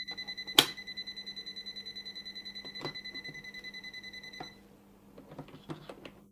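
TOOLTOP ET32 breaker finder emitting a rapid, steady train of electronic beeps, close and clear, running for about four seconds before cutting off, then faint handling clicks.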